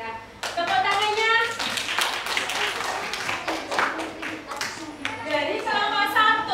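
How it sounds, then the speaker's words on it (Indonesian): A classroom of children claps hands together after a group presentation, a dense burst of sharp claps that fades briefly and then picks up again, with young voices mixed in. "Ya, tepuk tangannya."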